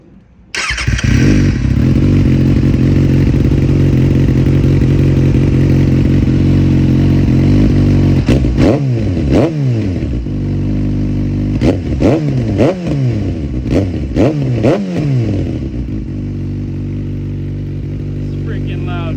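A Kawasaki Ninja ZX6R KRT with an M4 Street Slayer slip-on exhaust, silencer still fitted, idling loud and close, then blipped in several sharp revs that rise and fall over the final seconds.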